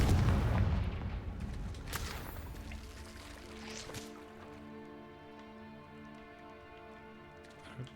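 Confringo fire spell going off in Hogwarts Legacy, a loud booming blast at the start that rolls into a long ringing, fading tail with faint crackles and a few light hits, no talking.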